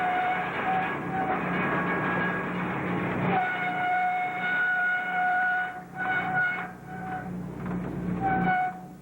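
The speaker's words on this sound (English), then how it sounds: "we watch Extra South 1734 pass us by on its way back to Porquis with southbound" An Ontario Northland freight train on the Iroquois subdivision at Welch passes close by in winter, with steady rumbling rail cars, squealing flange tones and brief horn-like whines over the rolling noise.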